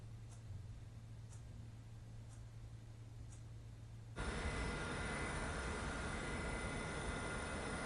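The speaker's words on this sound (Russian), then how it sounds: "Приветствуем вас на борту самолета Бомбардье CRJ-200, рейс Москва-Казань." Steady broadband cabin roar inside a Bombardier CRJ-200 airliner on a Moscow–Kazan flight, quieter at first, then jumping suddenly louder halfway through and holding as a continuous close hum.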